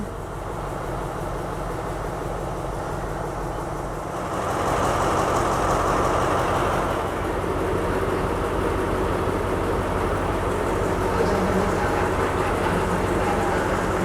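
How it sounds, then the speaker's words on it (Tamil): Diesel locomotive idling on Thailand's Death Railway (Siam–Burma line), a steady low engine rumble that grows louder and fuller partway through and holds, heard close with no talking. "இந்த டீசல் லோக்கோ தாங்க இன்னைக்கு நம்மளை இழுத்துட்டு போக போகுது."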